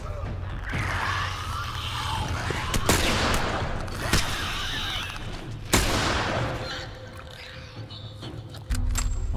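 Several sharp rifle shots crack at irregular intervals over a rumbling soundtrack in The Last of Us, with a few clicks and mechanical sounds in between.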